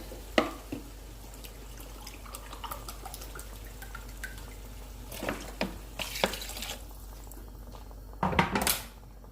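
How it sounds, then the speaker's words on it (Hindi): Two glasses of water poured into a pan of beef karahi in a home kitchen, giving scattered splashes and clinks with a louder burst of pouring near the end, set against a steady low hum. "अब इसमें मैं 2 गिलास पानी डाल रही हूँ ताकि बीफ अच्छे से गल जाए।"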